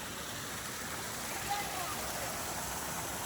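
A mountain stream and waterfall at East Dragon rush in a steady, full roar throughout, loud and continuous with no pauses.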